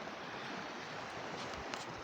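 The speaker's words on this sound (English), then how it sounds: "massive, terrifying waves get splashed several feet into the air" Ocean waves washing onto a cold, frosty beach with sea foam, a steady broadband roar of surf mixed with wind buffeting the microphone, continuous and fairly faint, no voices.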